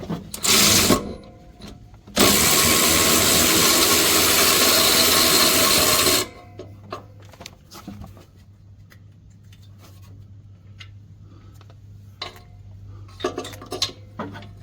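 A power tool loosens bolts on the three-cylinder engine of an Arctic Cat Wildcat 1000 XX. A loud, steady whirring burst runs for about four seconds, followed by quieter scattered clinks and rattles of hand tools against metal.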